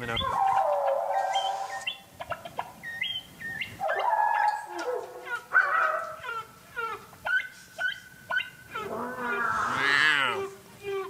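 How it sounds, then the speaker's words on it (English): Catbird song overlaid with sped-up whale song: mewing, squeaky chirps and swooping whistles come in bursts and phrases, overlapping and close, with no voices. "And here's the catbird mixed with the sped-up whale at the same time"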